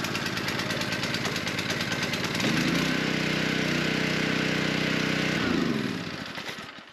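A Harbor Freight Predator gas engine on a 3200 PSI, 2.8 GPM pressure washer is cranked and catches, settling into a loud, steady close-up chugging roar before fading out near the end.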